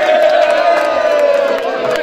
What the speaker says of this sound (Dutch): Even jongens, iets harder applaus.